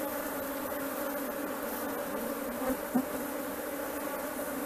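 A swarm of Apis honey bees on a hive frame makes a continuous close buzzing drone, steady and full throughout, with a couple of brief louder passes from individual bees.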